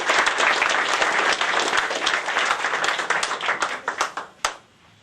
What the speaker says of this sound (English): Let's have a round of applause for all those great sponsors